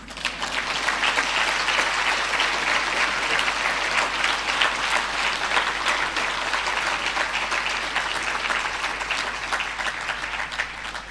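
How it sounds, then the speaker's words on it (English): Sustained audience applause at a climate change lecture, dense and steady clapping from a large crowd lasting the whole stretch with no speech over it. "I want you to clap again."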